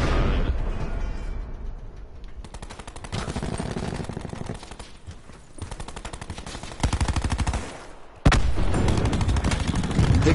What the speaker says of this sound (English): Paintball guns.